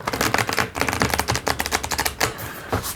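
A deck of cards is shuffled in quick riffling bursts, a close, crisp flutter of rapid clicks that repeats for a few seconds without any talking.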